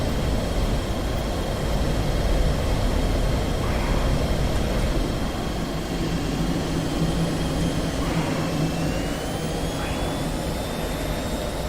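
An F/A-18 Hornet jet roars continuously in the DCS flight simulator, a loud, steady engine whine with a faint rising tone, unbroken throughout.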